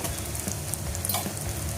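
Onions sizzle with turmeric in a pan for a Telangana-style majjiga pulusu, a dense, steady frying hiss with light stirring scrapes, close and continuous.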